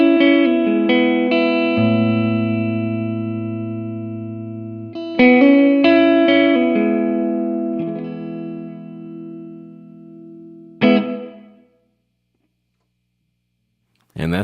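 Electric guitar chords and picked notes played through a Strymon Big Sky reverb pedal set to club room size, each strum blooming and fading into a brief roomy tail, followed by silence and a voice starting at the very end.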